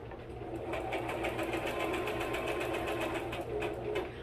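A sewing machine runs steadily throughout with a continuous mechanical whir and rapid rhythmic stitching, fairly close and unbroken.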